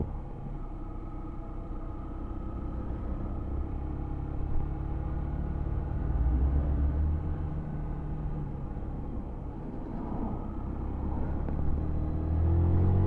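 A Yamaha YBR125 motorcycle rides along a road, its small engine droning steadily under heavy wind rumble, rising briefly as it pushes to overtake, close and continuous with no talk.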